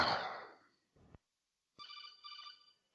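A phone rings in two short warbling electronic bursts after a decaying noise and a brief thump, fairly quiet and alone, with no talking.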